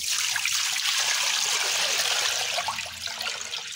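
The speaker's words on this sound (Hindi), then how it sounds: "ये तकरीबन 2 से 3 किलो पानी ले लेना" Water poured steadily into a cooking pot for steaming a leg of mutton, a continuous close trickling splash that holds for several seconds before easing slightly.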